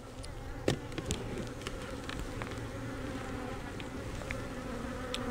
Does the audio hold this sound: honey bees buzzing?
yes